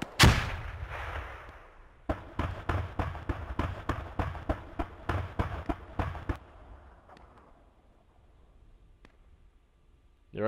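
Mortar fire in a tactical shooter game, a big explosion up front followed by a rapid string of about fifteen sharp, evenly spaced blasts, then a fading tail.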